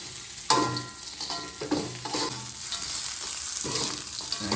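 Fried anchovies, tofu and tempeh get stirred in a hot pan with spicy chopped sambal, a continuous close sizzle broken by scraping spatula strokes, with no voices.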